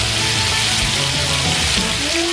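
Pork ribs sear in a hot skillet with a steady, close sizzle and crackle of frying fat that runs without a break and sits alone with no voices.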